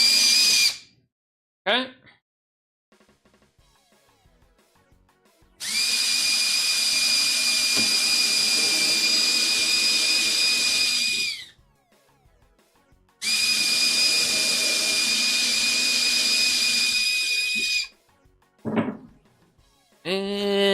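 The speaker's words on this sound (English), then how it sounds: "let's get some holes going." A power drill bores holes while a shop utility cart is being built, running in two long steady bursts of several seconds each with short quieter gaps, close and loud; a brief word is spoken early on.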